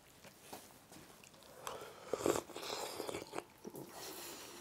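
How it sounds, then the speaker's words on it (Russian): Someone chews homemade instant noodles near the mic, with soft wet biting and mashing in irregular bursts and a louder crunchy stretch midway. No talking. "Вы ругаете, что я чавкаю?"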